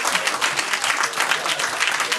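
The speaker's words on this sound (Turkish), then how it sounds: "Çok alkışlıyoruz beyefendiyi." An audience at a quiz night applauds a winner, dense clapping from many hands rising and falling steadily close by for a couple of seconds.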